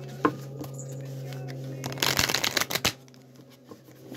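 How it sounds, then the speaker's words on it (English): Tarot cards being shuffled by hand indoors, a crisp riffling burst building to a dense flurry of papery flicks in the middle, with a few lighter taps and card snaps before and after and a faint tonal background hum. "Let's shuffle one more time."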